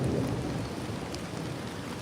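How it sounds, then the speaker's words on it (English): Steady heavy rain with a low rumble of thunder rolling underneath, loud and continuous from start to finish. "I can't believe it's still raining."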